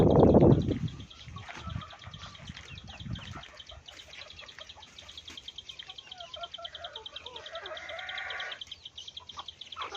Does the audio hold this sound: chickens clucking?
yes